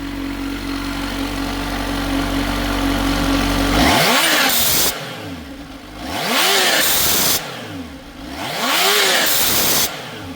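Kawasaki Z H2 motorcycle engine fitted with a Turbosmart blow-off valve, revved up and down several times; loud, close rising and falling engine sweeps, each followed by a hissing blow-off burst as the throttle closes.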